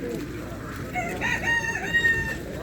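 A rooster crows loudly and close by, a rising then drawn-out call over the murmur of an outdoor poultry market in Elbląg, Poland, with people talking nearby.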